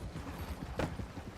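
Horse hooves clop at a walking pace in a video game, a horse loaded with deer pelts plodding along, faint and soft with a brief louder thud partway through.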